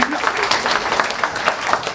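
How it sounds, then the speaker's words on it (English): Audience applause at a campaign stop for presidential candidate Cory Booker in Dubuque, a steady dense clapping that fills the whole stretch at moderate loudness, with some voices mixed into the crowd. "because you all applauded"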